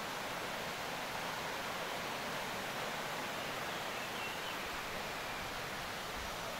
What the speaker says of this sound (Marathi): ही आमच्या गावची नदी आहे।